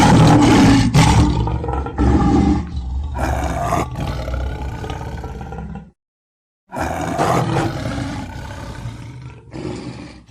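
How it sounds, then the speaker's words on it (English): A tiger roars in several loud, close, rasping bursts, with a brief silent gap partway through. "Tiger."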